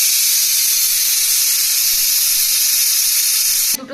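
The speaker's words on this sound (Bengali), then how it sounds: "দুটো সিটি উঠে গেছে কালো প্রেশারটার" A black pressure cooker cooking mutton biryani vents steam through its whistle, a loud continuous hiss held steady for several seconds before cutting off abruptly at the end.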